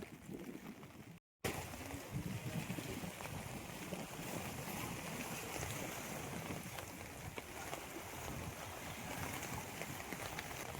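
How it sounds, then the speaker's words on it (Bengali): A motor launch on a river in West Bengal, its engine droning steadily with wind and water rushing past, close and continuous after a brief cut near the start. "এই লঞ্চটা করে আমরা যাবো"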